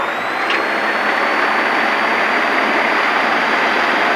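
A Cessna 172M engine roars steadily at full takeoff power, loud and constant from inside the cabin, a droning wash of broadband noise with a faint high whine and no talk.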